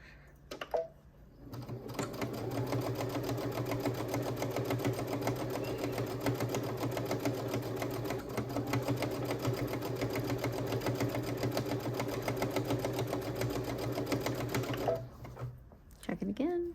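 A sewing machine runs steadily for about fourteen seconds, stitching a quilted Christmas stocking with a fast, continuous mechanical whir and rapid ticking, close and fairly loud, with a person speaking around the stitching.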